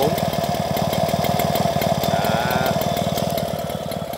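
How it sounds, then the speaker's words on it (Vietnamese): A French-made Mobylette AV44 moped engine idles steadily with a fast, even putter, close and loud, holding a constant rhythm throughout with no voices over it. "Máy nổ êm ái, găng ti rất là tốt."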